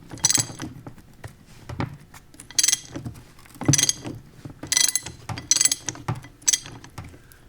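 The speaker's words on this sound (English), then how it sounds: "You can actually use an impact gun. It'll probably come right off." An impact gun removes the pinion nut on a Dana 44 differential from a Jaguar XKE, firing in repeated short rattling bursts separated by brief pauses, close and fairly loud.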